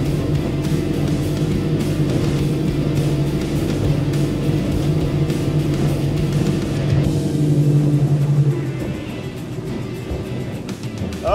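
A 26-foot Makaira boat runs its 300 HP Mercury outboard at wide open throttle near 36 knots, giving a loud, steady engine drone with rushing water and wind that eases slightly toward the end.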